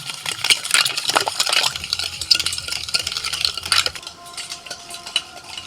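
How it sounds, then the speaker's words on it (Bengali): A spoon stirs a glass of iced lassi mixed with roasted cumin and chaat masala, giving quick, busy clinks and scrapes against the glass, close and fairly loud, before easing into softer stirring near the end. "এবার ভালো করে আমি মিশিয়ে নেব"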